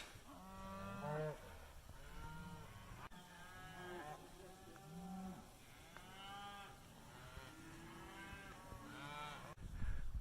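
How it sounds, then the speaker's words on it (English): Several cows moo one after another in a mountain meadow on the Colorado Trail, long low calls overlapping at moderate distance, with no talking. "So many cows. Little baby cows."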